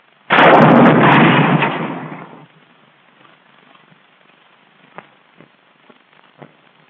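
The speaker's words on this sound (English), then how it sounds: "This is what happens to a tank crew when a rocket hits." An M6 bazooka rocket from 1943 slams into a tank: one loud, close explosion that roars for about two seconds and fades, followed by quiet with a few faint scattered pops.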